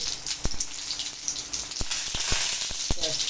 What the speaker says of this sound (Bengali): আর এখানে কড়ার মধ্যে তেল আর 2টো শুকনো লঙ্কা দিয়েছি। এখন আমি এখানে দেবো অল্প একটুখানি জিরে, গোটা জিরে আমি ফোড়ন দিলাম।